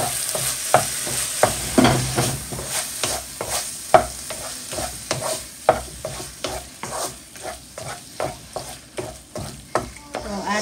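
Boiled, mashed potato is mixed into cooked vegetables in a pan for vegetable puff filling, with rhythmic spatula taps and scrapes repeating steadily over a light sizzle, close and clear, with no voices.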